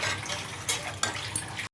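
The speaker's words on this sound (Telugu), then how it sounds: "రిమైనింగ్ వాటర్ వేసేసుకుందాం" Water pours into a pan of masala curry in short, splashing bursts at close range, with a soft liquid rush that cuts off abruptly at the end.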